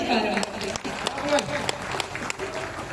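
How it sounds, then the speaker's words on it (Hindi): At a Hindi kavi sammelan poetry gathering in Bhagalpur, the audience claps in scattered, sharp hits against a background of voices and crowd murmur, at moderate volume. "एक बार तालियां बजा दीजिए।"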